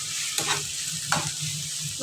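Onions sautéing in a pan for a Kerala-style beef dish, a steady soft sizzle with two brief scraping stirs, close and quiet, with no talking.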